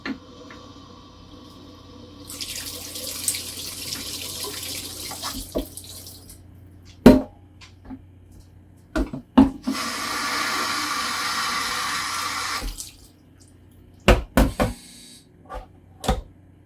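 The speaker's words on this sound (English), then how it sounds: "you just fill up each jar with cold water" Cold tap water runs into glass jars one after another to soak sprouting seeds. Two long, close gushes of filling water are separated by clinks and knocks of jars being handled, and no voices are heard.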